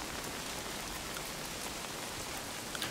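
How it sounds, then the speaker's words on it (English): Rain falls steadily in the Ready or Not video game, a dense, even hiss of drops on surfaces that holds constant throughout, soft and unbroken with no voices. "It's a good rain effect."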